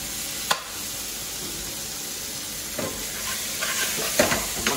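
Chicken cooks in a pan for chilli chicken pasta with a constant sizzling hiss, broken by a few sharp utensil knocks and stirring scrapes.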